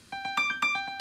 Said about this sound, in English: If we select the acoustic piano program, it also has an arpeggiator pattern associated with that sound